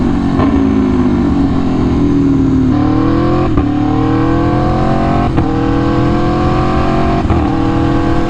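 An Aprilia Tuono V4 1100 Factory naked sport bike engine drones loud and close throughout, its pitch climbing under throttle and dropping sharply at several gear changes.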